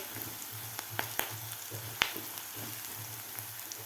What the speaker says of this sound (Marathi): कांदा आणि आलं लसूणची पेस्ट व्यवस्थित परतून झालेली आहे